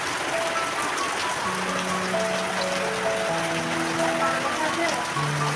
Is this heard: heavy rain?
yes